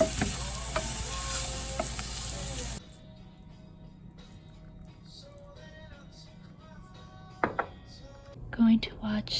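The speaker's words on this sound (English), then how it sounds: "make dinner. A really early dinner because, as you saw, I only had one cookie for lunch, so excited to eat a bunch of veggies and tofu" Vegetables and tofu stir-frying for dinner, a steady sizzle in the pan for the first few seconds, then a quieter stretch with occasional stirring clinks and scrapes and a few short knocks near the end.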